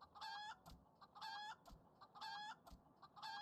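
Repeated chicken clucks and short crow-like calls from a Final Fantasy XIV game chicken, coming in four evenly spaced bursts, loud and close, with no talk over them.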